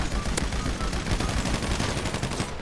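Rapid automatic gunfire in GTA V FiveM, a dense string of sharp cracking shots in quick rhythm, steady and moderately loud for the whole stretch with no talk.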